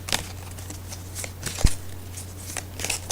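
A deck of angel cards is being shuffled by hand. It makes soft papery riffles and flicks in irregular bursts, with one sharper tap near the middle. The sound is close and quiet over a faint steady hum, with no talk.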